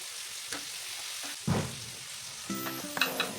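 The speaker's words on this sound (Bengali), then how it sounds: "টমেটোটাকেও ভালো করে একটু ফ্রাই করে নেব।" Chopped tomatoes fry in a pan for a Bengali mustard fish curry, a steady close sizzle broken by a few clinks and scrapes of a spoon stirring them, with no talking.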